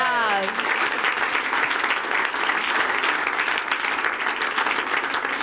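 A comedy show audience breaks into loud, dense applause that fills the room and keeps going at a steady level, with a voice briefly heard at the start.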